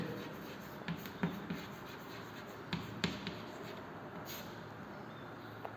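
Chalk or marker writing on a board during a chemistry lecture, with a few brief scratchy taps and strokes spread over several seconds in a roomy space with steady background hiss.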